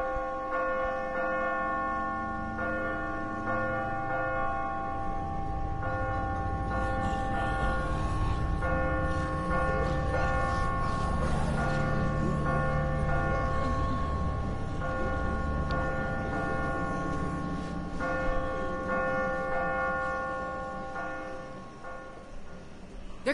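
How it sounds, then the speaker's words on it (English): A bell in The Walking Dead video game rings with sustained metallic tones, struck repeatedly so the ringing overlaps and swells in the middle before slowly fading, steady and fairly loud with no talking. "Don't ring the bell."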